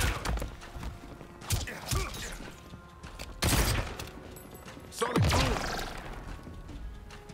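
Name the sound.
gunfire in the video game Last Epoch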